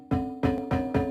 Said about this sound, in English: You play as these rolling glass metal balls in the game, and when they hit each other